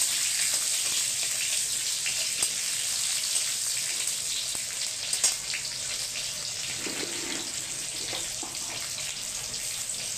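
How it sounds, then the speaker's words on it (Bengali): Raw mangoes and slit green chillies frying in hot oil, a constant close hiss and crackle of sizzling that holds steady throughout. "এই আমগুলোকে ভালো করে একটু ভেজে নেব"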